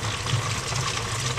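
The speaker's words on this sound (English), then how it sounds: "And then I like to fill it with warm water" Warm water pours into a container on a farm, a brief steady rushing splash heard close up and alone.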